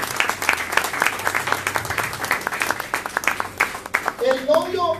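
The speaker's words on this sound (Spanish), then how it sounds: "Denle un aplauso a Cristo, hermano." A church congregation claps together in dense, continuous applause at a moderate distance, and a voice comes in near the end.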